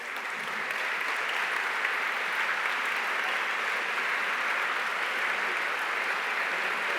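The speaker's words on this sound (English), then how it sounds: "we could just applaud you because we really appreciate your efforts." An audience at an all-county school orchestra concert applauds school administrators, a dense, sustained round of clapping from a large crowd, steady and full from start to finish.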